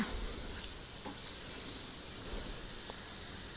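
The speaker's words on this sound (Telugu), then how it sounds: "ఈ పన్నీర్ పీసెస్ని ఆయిల్లో లైట్గా ఫ్రై అవ్వనిద్దాం" Paneer pieces fry lightly in oil, giving a soft, steady sizzle with a few faint stirring clicks, quiet and close throughout.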